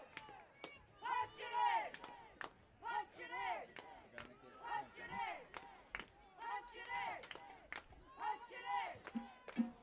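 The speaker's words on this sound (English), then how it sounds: "Punch it in is the cheer." Spectators at a high school football game between Saltsburg and Juniata Valley chant a short cheer again and again in a rhythmic, rising and falling pattern, a group of voices heard from some distance.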